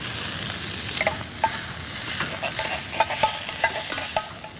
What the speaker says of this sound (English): The stir fry is coming perfect